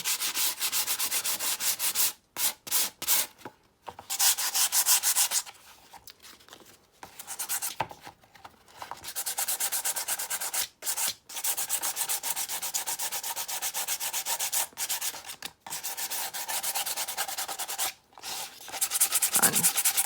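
Sandpaper rubbing along the edges of a junk journal cover to distress them, a close, steady scratchy sanding in repeated strokes with short pauses between, no talking.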